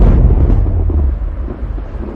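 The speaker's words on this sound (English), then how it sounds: "Thunder really freaks me out." Deep rumbling thunder from a powerful lightning storm, a loud low roll that fades gradually over a couple of seconds, with no voices.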